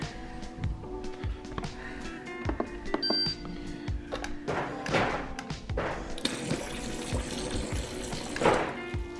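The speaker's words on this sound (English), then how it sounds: "A tiny bit of cold water." A kitchen tap pours a little cold water into a tea mix, a close rushing splash that swells in the second half, mixed with thuds and clinks of handling and no talking.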